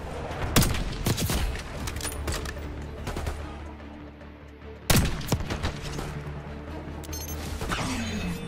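Sustained covering gunfire in the video game Call of Duty: Black Ops 6, with rapid automatic bursts and sharp shots crackling throughout, a loud heavy blast near the five-second mark, and the battle continuing dense and close.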